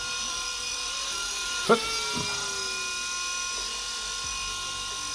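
A UFO Flynova flying hand spinner toy takes off and hovers with a steady high-pitched whirring drone, alone and fairly loud, with a brief knock partway through.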